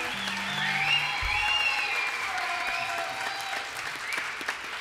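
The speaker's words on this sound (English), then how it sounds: "You can keep on applauding." Audience applause at a live swing concert, steady and sustained throughout, with fiddle-like tonal lines ringing above the clapping.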